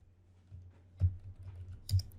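A few isolated keystrokes on a computer keyboard while HTML code is entered, two distinct close clicks over a faint steady hum, without speech.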